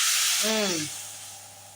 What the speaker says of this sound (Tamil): நல்லா கொதிக்குதுங்க.